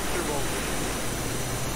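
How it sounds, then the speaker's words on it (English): An F/A-18 jet engine spools up during startup in the DCS flight simulator, making a loud, steady broadband roar and whine that fills the cockpit without pause. "Left engine's coming up."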